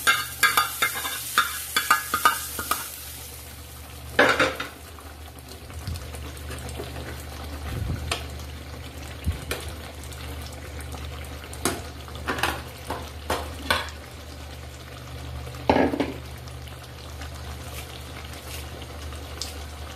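Fried onion and dried red chilies sizzle in a pan of Kashmiri dum aloo, with a steady low frying hiss broken by sharper stirring scrapes and clinks.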